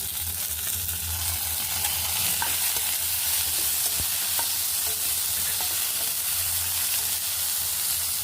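Onion and tomato frying in a pan for kurma, a steady close sizzle and hiss with occasional scraping clicks of stirring, continuous and alone without talk.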